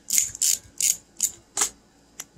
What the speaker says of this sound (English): grab yourself your 5/16 inch socket and stick it down in there. And then go ahead and pull that seat out